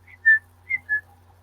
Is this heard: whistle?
yes